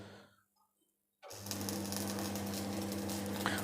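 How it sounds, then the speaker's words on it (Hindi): An arc welder strikes up on a lap joint with the current preset. A near-silent pause gives way to an abrupt, steady, loud crackling hiss over a low electrical hum that holds to the end. "अब देखिए वेल्डिंग शुरू होने जा रही है"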